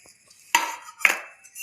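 Raw mango pieces in jaggery pickle stirred in a metal vessel, with two sharp clinks of a spoon against the vessel and light scraping between them, close and otherwise quiet.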